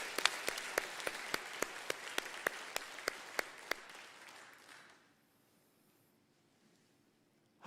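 An audience at a political party anniversary event applauds. Dense clapping keeps a sharp, regular beat and fades away after about five seconds, leaving near silence.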